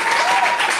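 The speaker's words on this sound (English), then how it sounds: "A big round of applause to all of you." Audience applause at a writers' festival event, a dense steady wash of clapping close and loud for under a second.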